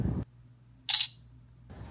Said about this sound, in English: it would make the sound of a shutter